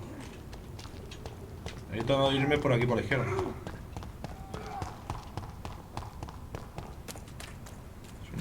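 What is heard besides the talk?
horse hooves clip-clopping in a video game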